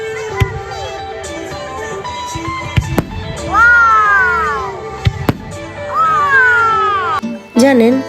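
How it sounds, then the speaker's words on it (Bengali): Fireworks at an outdoor Bonfire Night celebration in England: sharp bangs and crackles scattered through, with rising whistling rockets screeching overhead, and a crowd and children chattering in the background. "এবার সেই বাজি ফাটানোর পালা"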